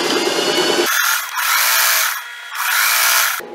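A sewing machine stitches around the edge of a fabric tote bag lining, running in three steady motorized bursts separated by brief pauses, close and fairly loud.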